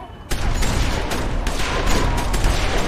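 Gunfire in The Walking Dead Season 2 finale, a loud sudden blast followed by a dense crackling volley of shots and echoes lasting the rest of the short clip.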